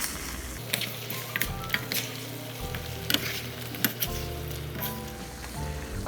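Pork sizzles in soy sauce in a pan while being stirred for adobo, giving a steady, quiet frying crackle broken by soft scrapes and clacks of the spoon, with no talking.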